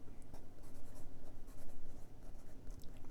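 A 1967 Parker 45 Flighter Deluxe fountain pen with a broad 14 karat gold nib glides across paper in close, soft scratchy strokes that come in quick, uneven bursts.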